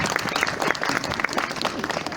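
An audience applauds warmly at a lively show in Joinville, a dense steady patter of many hands clapping close by for the full stretch without a break.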